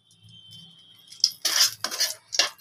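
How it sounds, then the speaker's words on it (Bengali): Dried red chilies are fried in oil and stirred in a pan, heard as a faint sizzle followed by a few sharp metallic scrapes and clinks of a utensil against the pan in short bursts. "শুকনো লঙ্কাটা ভেজে নিই"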